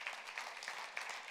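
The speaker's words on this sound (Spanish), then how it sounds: "Le das aplauso fuerte al Señor." A church congregation claps together for a sustained stretch, a dense, even patter of many hands heard from a little distance, with no voices standing out.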